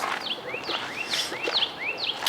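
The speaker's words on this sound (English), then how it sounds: "and you hear the birds chirping, of course." Birds chirp repeatedly in quick, rising whistled calls, fairly close, over a soft steady background hiss.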